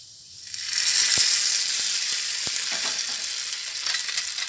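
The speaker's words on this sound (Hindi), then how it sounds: "मैं इसको चटनी के ऊपर गार्निशिंग कर देती हूँ।" Hot tempering of whole red chillies poured over coconut chutney bursts into a loud sizzle and fry, crackling strongly at first and then settling into a steady, fading hiss with scattered pops.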